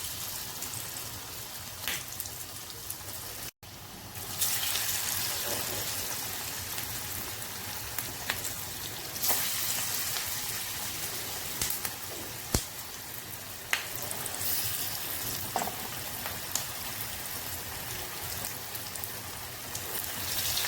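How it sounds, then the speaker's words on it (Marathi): Kothimbir vadi frying in hot oil in a kadhai, a dense, even sizzle like steady rain running close and loud throughout, with occasional sharper pops. "तेलामध्ये आपल्याला आता वडी सोडायची आहे"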